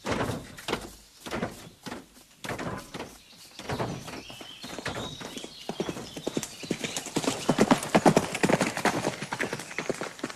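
Horse hooves clip-clop as a red rider passes, a run of sharp, close hoofbeats that starts sparse and grows faster and denser, with a brief whinny-like sound.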